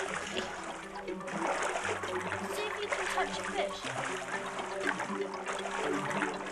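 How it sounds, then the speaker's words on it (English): Hands swish and splash through pond water in the Milo video game for Project Natal, a steady churning of sloshes and dribbles running under a person talking throughout. "Swish the water about a bit."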